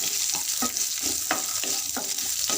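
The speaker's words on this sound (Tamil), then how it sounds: "பூண்டு ஒரு 10 பல் போட்டு நல்லா வறுத்துக்கலாம்" About ten garlic cloves fry in a pan of oil for radish chutney: a steady, close sizzle broken by stirring scrapes that come roughly twice a second.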